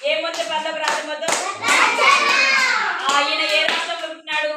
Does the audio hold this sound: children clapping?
yes